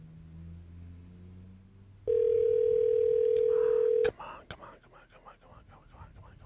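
A telephone tone on an outgoing call: a single steady electronic ring-back tone lasting about two seconds, loud and clean, with faint voices before and after.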